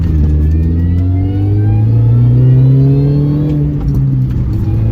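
A car drives at speed on a narrow road, its mid-pitched engine loud and close, revving and rising in pitch as it accelerates, then easing, with no talk.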